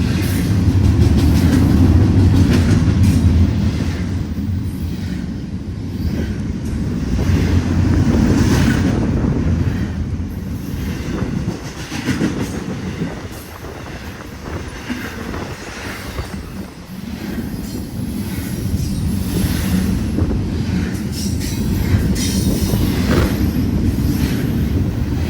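A Union Pacific freight train led by SD70AH and C44 AC and C44 ACM locomotives rolls through Glendale Station with a loud, steady rumble, while wind buffets the microphone the whole time.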